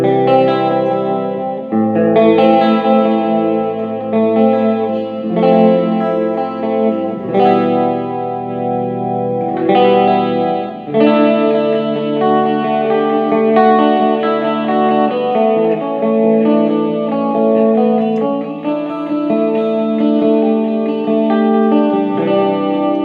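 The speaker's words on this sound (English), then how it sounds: "probably put on some delay and a bit of chorus." A clean electric guitar plays sustained chords and notes, shimmering with chorus and trailing delay echoes, loud and alone with no talking.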